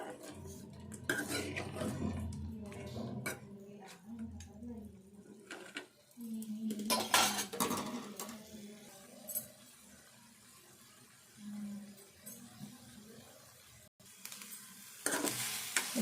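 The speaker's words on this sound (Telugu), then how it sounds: "ఇదిగో ఇట్లా నీరు ఉంటుంది కదా, నీరంతా వినికేదాకా వేపుకోవాలి." Chicken pieces for chicken pickle frying and being stirred in a pan, with a steady sizzle broken by repeated scraping strokes of the spoon against the pan and a few clinks, close and moderately loud.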